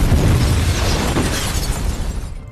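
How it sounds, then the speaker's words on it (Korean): A bazooka rocket blasts a house into flames in an action film, a loud, dense roaring explosion with crackling debris that rumbles on for a couple of seconds before tapering off, with no speech. "차에 있던 바주카포를 꺼내 존의 집을 불살라버립니다"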